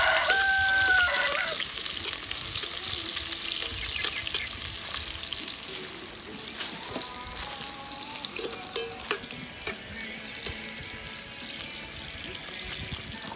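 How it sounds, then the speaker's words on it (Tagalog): Ginger and garlic sautéing in a hot pan at an outdoor kitchen, a steady loud sizzle with occasional stirring clatter, while a rooster crows briefly near the start. "Gigisa muna natin yung luya."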